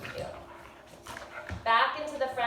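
During a yoga session, a dog gives a few brief whimpers and whines, with a louder whine near the end, mixed in with a person talking.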